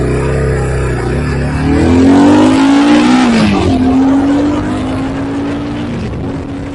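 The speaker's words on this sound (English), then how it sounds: "getting into first gear, revving the motor" A BSA Scrambler 650 motorcycle engine revs loudly and close up in first gear, its pitch climbing, dipping and climbing again before settling into a steady drone.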